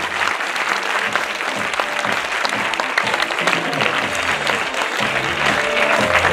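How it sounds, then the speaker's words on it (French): A festival audience of children and adults in Paris gives steady, loud applause that fills the room continuously throughout. "Je vous demande donc d'applaudir et d'accueillir son représentant, Monsieur Guy Lafitte"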